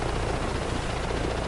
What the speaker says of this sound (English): this helicopter has a mind of its own